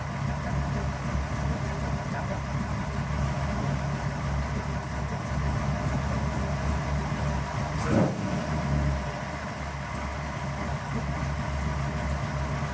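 Flathead engine in a 1928 hot rod roadster idling steadily at close range, a continuous low rumbling drone with a single brief bump partway through.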